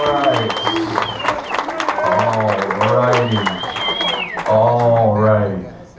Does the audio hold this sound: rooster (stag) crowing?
no